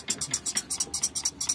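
Rapid rhythmic ticking and scraping from a timing belt tensioner in an open Daihatsu Gran Max engine with the valve cover off, a dozen-odd short bright pulses in quick steady succession, close and fairly loud.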